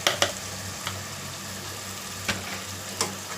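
A spoonful of ginger garlic paste sizzles steadily in hot oil in a pan, a continuous dense frying hiss with a few sharp clicks of stirring, close and alone without talk.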